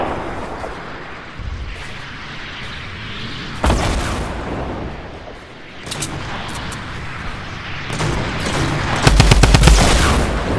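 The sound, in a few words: gunfire hitting the player in Fortnite, a video game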